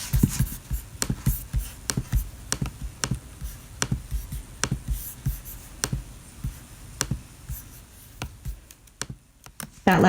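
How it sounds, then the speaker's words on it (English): Computer keyboard typing during homework, irregular clusters of crisp clicks and taps at close range, pausing briefly between bursts with no voices. "everyone's really used to that usual clickety-clack of the keyboard at this point"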